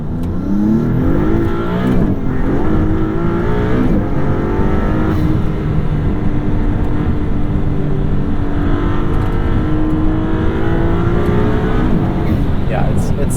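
A 2022 Maserati MC20 sports car accelerates with a loud, close, steady engine roar that climbs in pitch through the gears, with people talking over it throughout.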